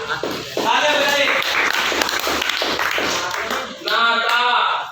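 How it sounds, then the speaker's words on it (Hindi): Students clap in a classroom during a Hindi letter-game lesson, a brief burst of close hand claps with a teacher's voice talking over it and children's voices mixed in. "तालियां, तालियां बजाइए।"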